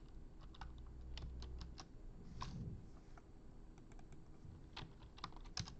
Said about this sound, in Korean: 타이핑하고